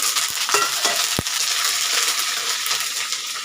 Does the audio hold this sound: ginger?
yes